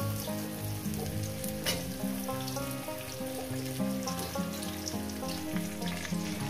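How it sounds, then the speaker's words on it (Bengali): Potatoes frying in a pan, a dense continuous sizzle with crackling pops and occasional stirring, close and steady throughout. "আলুগুলো দিয়ে মিনিমাম 2-3 মিনিট আমি ভেজে নেব, 3-4 মিনিট ধরে ভেজে নিই।"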